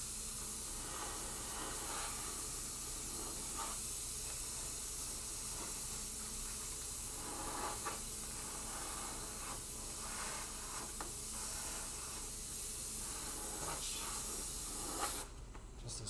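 Airbrush spraying yellow candy paint coats onto a bottle, a continuous close hiss lasting throughout with slight pulses as quick strokes are made, ending in a brief louder burst of air.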